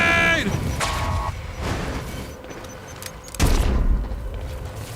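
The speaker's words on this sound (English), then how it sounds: "Grenade!" A grenade goes off in the Quantum Break video game amid dense gunfire, a heavy boom bursting out near the end of a chaotic, loud exchange of shots.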